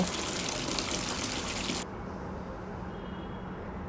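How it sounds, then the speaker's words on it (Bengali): Water rinsing a freshly tie-dyed saree; a loud, steady gush of running water pours for almost two seconds, then cuts to a quieter, softer trickle and splashing. "কালার করা শেষ, তারপর হচ্ছে ধুয়ে ফেলছি।"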